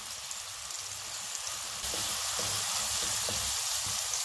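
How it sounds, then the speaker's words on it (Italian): Olive oil warms in a pan where seafood was just cooked, giving a steady, close sizzle with a slight crackle that grows a little louder partway through, with no one talking. "Aggiungo un filo d'olio, lo lascio profumare appena"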